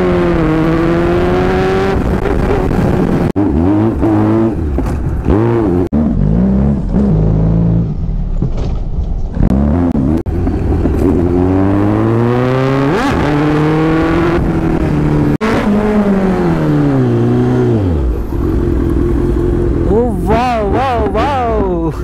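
A new-model Kawasaki Z900 motorcycle revs and accelerates hard, engine pitch sweeping up and down loudly and continuously through repeated gear changes, close to the listener.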